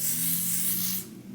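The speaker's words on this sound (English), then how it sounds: "I'm going to spray some lace spray right here." Lace spray is sprayed close up onto a lace front wig during an install, giving one steady hissing burst that stops abruptly after about a second.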